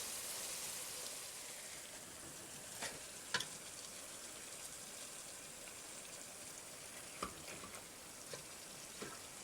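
Meat frying with onions in a pan, giving a faint, steady sizzle with a few soft clicks of utensils scattered throughout.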